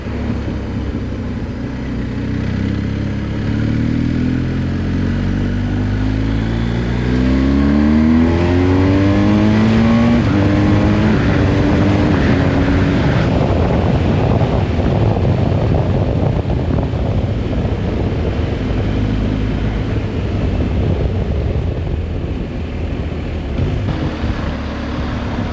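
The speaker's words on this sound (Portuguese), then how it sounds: "este barulho de motor é inconfundível, não é pessoal? Este motor 1250 é inconfundível." A BMW R1250 GS Rallye motorcycle engine revs and accelerates nearby, its pitch sweeping upward through the gears before settling into a steady, loud drone with wind rush.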